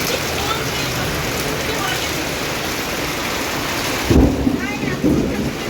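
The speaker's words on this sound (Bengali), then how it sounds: "মানে এত পরিমাণ বৃষ্টি সত্যি ভাবা যায়।" Heavy rain pours in a thunderstorm in rural Medinipur, a dense continuous hiss, then a loud rumbling thunderclap near the end followed by a second rumble.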